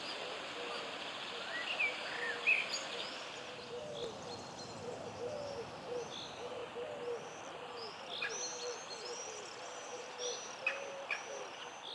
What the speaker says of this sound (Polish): Kosy i gołębie szukają na trawnikach pożywienia